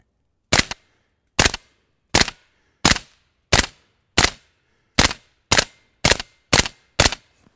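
Eleven soft, sharp cracks from a rifle firing hush (subsonic) ammunition outdoors in snow, evenly spaced under a second apart, each dry and clipped with almost no echo against a silent background.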